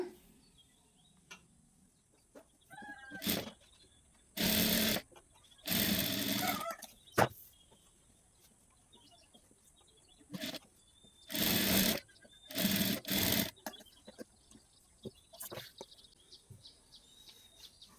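Sewing machine stitching a blouse, running in several short, loud bursts separated by quiet pauses, close by.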